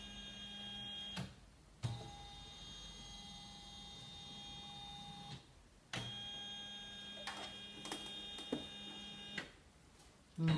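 A Janome Memorycraft 9900 embroidery sewing machine traces the outline of the stitch area, giving a steady close mechanical hum with motor whirs and small clicks broken by a few louder start-stop transients.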